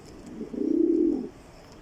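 A pair of red checker racing pigeons sits in a cage, and one gives a single close, throaty coo with a fluttering pulse, lasting under a second over faint background noise.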